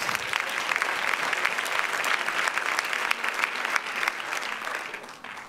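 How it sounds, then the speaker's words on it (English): Steady applause from a women's conference audience fills the whole stretch, dense and continuous, easing off slightly toward the end. "clap your hands and be seated"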